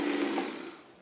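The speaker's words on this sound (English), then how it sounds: "just to make sure that our sauce is nicely incorporated, we can blend it again, just for about 5 seconds" A blender whirs through a Thai peanut sauce in one short steady burst that tapers off toward the end, close and fairly loud with no talking.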